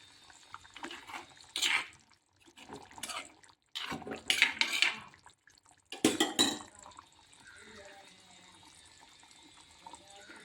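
A pot of Kottayam-style Kerala fish curry is opened and handled, with close clinks and scrapes of metal pot and lid in several short bursts between quiet pauses, plus light kitchen clatter and faint water sounds.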